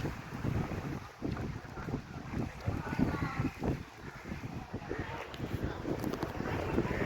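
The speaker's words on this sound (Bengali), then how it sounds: "প্রচণ্ড ঝড়ের মতো হাওয়া হচ্ছে।" Strong, storm-like wind gusting at Diamond Harbour fishing port, where many trawlers sit moored: a loud, continuous buffeting roar battering the microphone in uneven surges throughout.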